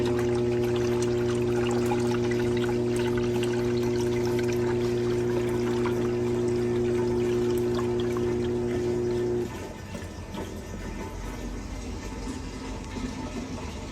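Liquid drains back into a drum through a drain hole on a capacitance level-control setup, a steady trickling wash under a constant machine hum that cuts off partway, leaving the softer pouring flow alone.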